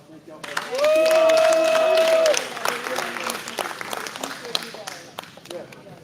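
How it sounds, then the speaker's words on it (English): An audience claps in a burst of applause at a children's AI, robotics and finance program, fairly close, with a loud whistle-like tone over the first seconds and scattered claps and voices fading out afterward. "let's give it one more round of applause"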